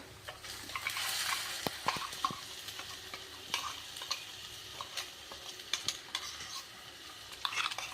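Onions fry with masala in a pan, giving a soft, continuous sizzle under frequent, close stirring scrapes and clicks of a spoon against the metal.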